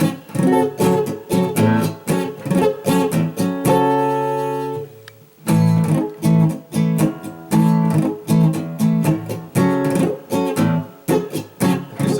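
Rhythmic guitar chord strumming in a syncopated Latin rumba pattern, close and loud, with one brief sustained chord ringing out midway.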